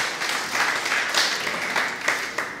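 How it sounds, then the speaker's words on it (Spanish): Church congregation applause, a dense continuous patter of many hands clapping together, fairly loud and sustained throughout. "Denle un aplauso a Cristo para que sepa que estamos aquí."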